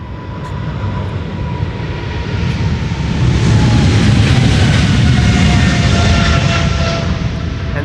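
A jet departs from runway 36L at Amsterdam Schiphol, a loud, sustained engine roar that builds over the first few seconds and holds strong to the end, with no talk.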